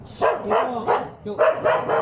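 A dog barks in a quick series of about six sharp, loud, close barks at an uneven rhythm.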